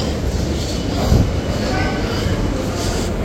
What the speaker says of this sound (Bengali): এটা হচ্ছে আমাদের দমদম মেট্রো।